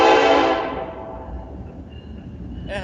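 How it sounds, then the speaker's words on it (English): A tram train passing nearby, starting with a loud horn blast that fades into a lower rumble of the cars rolling past, with a faint squeal near the end. "That's my tram train again."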